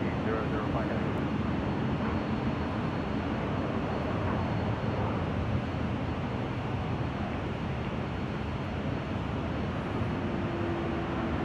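A heavy jet aircraft taking off from runway 24 left at LAX, heard as a loud, steady roar that continues without a break for the whole stretch.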